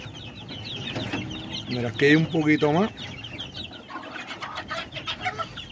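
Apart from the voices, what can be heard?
chicks in a brooder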